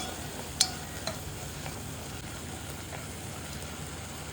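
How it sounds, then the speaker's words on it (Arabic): Chopped tomatoes being stirred in a pan with salt, black pepper and coriander, giving a steady soft sizzle and scrape with a couple of sharp clinks early on, and no talking. "بنقلب لحد ما تذوب البندورة"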